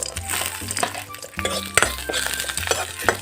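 Cashews, raisins and nuts sizzle in a pan while a spoon scrapes and clinks against the metal in short, repeated strokes.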